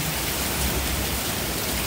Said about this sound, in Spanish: Está fuerte el agua